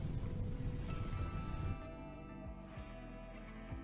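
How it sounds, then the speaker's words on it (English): Rain falls in the video game RimWorld as a steady, soft patter that drops slightly in level partway through, with no other sounds. "now we've got a little bit of rain, so that's all going out"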